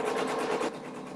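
Embroidery sewing machine running a placement stitch, a fast steady needle rattle that drops to a quieter hum partway through the brief moment.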